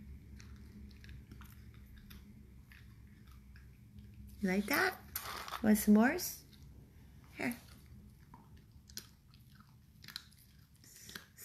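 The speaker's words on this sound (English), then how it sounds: "I love hearing dogs crunch on food." A dog crunches dry kibble in a few bursts of chewing close by, with a person talking softly and encouragingly in between, over a low steady background hum.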